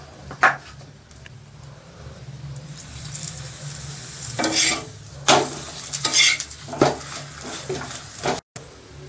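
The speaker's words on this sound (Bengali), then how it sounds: "এখানে আমি পরোটা ভাজতে শুরু করে দিয়েছি" Cabbage parathas fry in a pan with a soft, continuous sizzle, punctuated by several sharp scraping and turning clatters of a spatula against the pan, close and alone.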